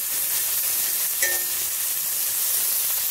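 Köfte meatballs frying in a pan give a steady, close sizzling hiss throughout, with a brief faint clink in the middle.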